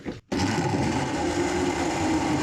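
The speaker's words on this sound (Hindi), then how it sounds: "अब हम दूध इसमें डाल देंगे और इसको अच्छी तरह ब्लेंडर करेंगे।" Kitchen blender whirring as it blends cold milk into a milkshake, starting after a brief pause and then running loud and steady nearby, alone with no talk.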